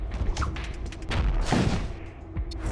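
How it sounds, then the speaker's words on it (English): Bolt cannon fire in the space combat game Void War, a series of booming, explosive blasts layered over steady game background noise, with a heavier impact burst near the middle. "the bolt cannon should fire at the heart and that at the shield"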